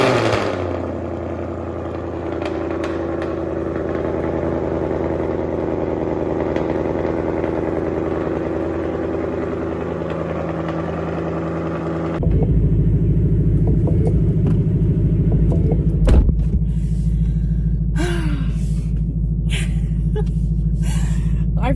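A Ford Mustang S650 fires up by remote start, and its idling engine gives a steady low rumble that turns deeper and louder midway through. A brief burst of sharper noise comes later, then the idle settles into a constant drone.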